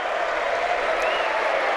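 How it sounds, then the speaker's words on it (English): Spectators at a Bristol Rovers pre-season football match give a short round of applause, a dense, distant crowd clapping mixed with stadium murmur. "he gets a round of applause from Aaron Ramsey"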